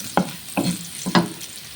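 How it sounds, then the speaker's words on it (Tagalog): Ginger with its skin on is sautéed in a pan, giving a soft sizzle with three or four scraping stirs at a steady rhythm. "Gisa-gisa lang po tayo. Ayan. May balat po yung ating luya."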